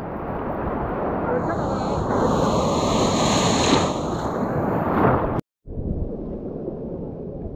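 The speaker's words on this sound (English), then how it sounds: "So while the ocean is very crazy and powerful" Loud ocean waves and surf crash continuously at a river mouth where a river meets the ocean, with heavy wind rumble on the microphone and a brief dropout near the end before the roar resumes.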